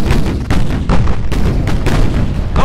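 A torpedo strikes a warship in the naval battle game Ultimate Admiral Dreadnoughts, giving a dense, sustained run of loud booming blasts with sharp renewed hits about every half second and no talk.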